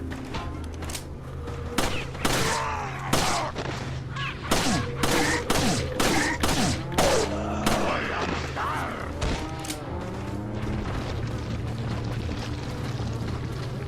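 Resident Evil 4 gunfire rings out as a long string of irregular, loud shots over roughly fourteen seconds, spaced unevenly with echoing tails and a low steady background drone.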